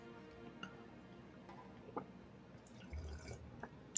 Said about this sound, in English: I can really sip it. You can really just enunciate the sip.